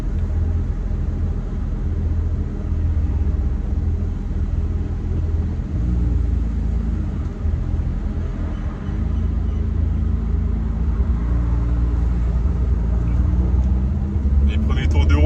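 A Porsche 911 GT3 of the 992 generation on its first kilometres, with a steady low engine drone and road rumble heard from inside the cabin, continuous and fairly loud throughout.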